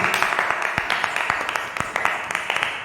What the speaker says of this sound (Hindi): हम वचन में जाने से पहले अपने जीवित पिता का जोरदार तालियों से स्वागत करते हैं।